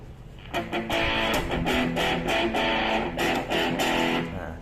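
An electric guitar plays a solo through a distorted preamp tone on a Boss ME-80 multi-effects unit, a run of sustained, gritty notes with steady rhythmic attacks, moderately loud with no talk.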